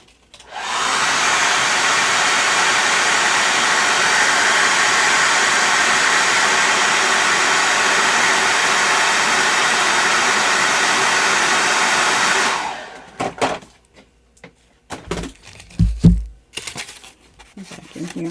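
A hair dryer blows hot air over a freshly painted Christmas flamingo or oyster ornament, a loud steady whoosh for about twelve seconds, then cuts off, followed by scattered rustling and handling noises.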